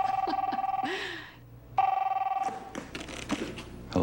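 Telephone bell ringing in a Sears appliance commercial, a loud rapid trilling ring in two bursts separated by a short pause, followed by a voice speaking.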